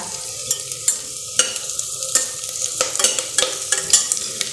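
Onions turning pink fry in a pan with curry leaves as a spatula scrapes and stirs. Sharp, rhythmic strokes cut through a bright, crackling sizzle, close and loud.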